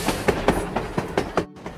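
A locomotive rolls along the track in an Android construction and railway station renovation game, with a loud, evenly spaced clickety-clack of wheels over rail joints before it cuts off near the end.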